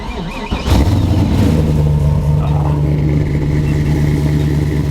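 The LS-swapped engine of a 1987 Mazda RX-7 FC drift car turns over, catches, and revs up, then settles into a steady, loud idle close by.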